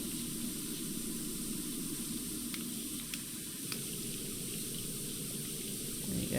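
A pressure washer sprays steadily in PowerWash Simulator, cleaning a Warhammer 40K Land Raider tank, a continuous close hissing rush of water that holds level throughout with no voices.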